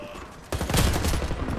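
A 12-gauge shotgun fires in a video game, one sharp loud blast followed by a dense rumbling burst of gunfire and noise.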